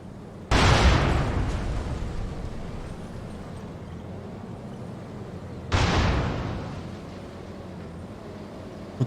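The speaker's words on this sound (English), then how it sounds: "Is that artillery?" Artillery fire in a tank combat PC game, two heavy, booming blasts several seconds apart, each followed by a long rumbling decay over a steady low engine drone.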